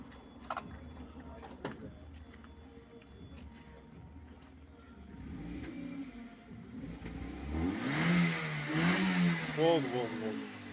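A Hyundai Accent with a black-smoke fault revs up from idle, the engine note rising and swelling loudly over the last few seconds, with people talking nearby throughout.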